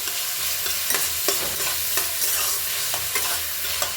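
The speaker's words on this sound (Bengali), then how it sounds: "এবার আমি এর মধ্যে বিমসগুলো দিয়ে দিচ্ছি দেখুন বিমসগুলো দিয়ে নাড়াচাড়া করবো" Green beans hiss and crackle steadily in hot oil for a pasta dish, while a spatula scrapes through them in close, regular strokes. No one speaks.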